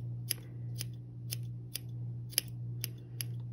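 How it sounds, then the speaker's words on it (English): Scissors snipping a knitted hat piece, seven crisp, evenly spaced close cuts in a steady rhythm over a low background hum, with no talk. "So you're gonna give it a trim."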